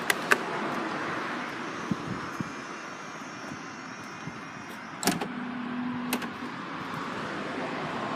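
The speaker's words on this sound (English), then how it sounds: "electric tailgate" An electric power tailgate on a Mercedes ML300 CDI turbo diesel whirs through its motorised travel over a steady low background hum, with a couple of sharp mechanical clicks and a short motor tone near the end.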